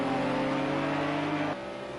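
A McLaren GT3 race car engine drones in a racing game at Imola. The tone is steady and harmonic, then drops abruptly partway through to a quieter, lower hum.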